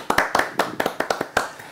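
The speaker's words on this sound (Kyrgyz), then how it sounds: "Сиз үчүн Союзбек дагы кол чаап атат." Soyuzbek claps his hands in a lively rhythm, about a dozen crisp, close claps in quick succession, loud and alone with no talking over them.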